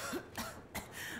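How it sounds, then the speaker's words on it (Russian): A character in Metro Exodus gives a short throat-clearing cough, a few rough close bursts in quick succession. "Сейчас кашлять опять будет"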